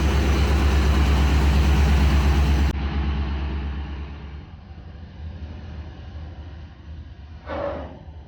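An old Ford F100 farm truck with a 5-speed, its crusty engine idling steadily with a low rumbling drone, loud at first and then settling slightly quieter, with a brief faint voice near the end.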